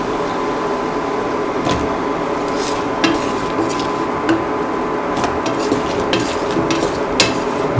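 Eggplant pieces are stirred in a cooking pan for a coconut milk stew, giving a steady sizzling bed broken by repeated scraping and clinking strokes of the utensil.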